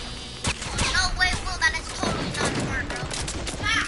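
Shotgun fire in a video game, several sharp irregular blasts mixed with clattering action sounds and impacts, fairly close, with voices talking over parts of the burst.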